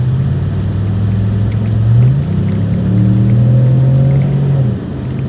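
A 2006 Cadillac DTS engine revs up as the car accelerates from 10 to 40 mph, the pitch climbing steadily, dipping briefly at a gear change, then rising again close by.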